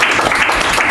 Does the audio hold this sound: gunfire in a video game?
no